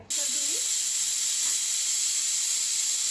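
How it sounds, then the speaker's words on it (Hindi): A pressure cooker cooking mutton lets off a loud, unbroken steam whistle that starts abruptly and hisses steadily for a few seconds, nearby and alone. "तो प्रेशर कुकर में अभी 5 से 6 व्हिसल आ गया है।"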